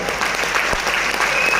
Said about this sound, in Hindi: ये तालियां कम है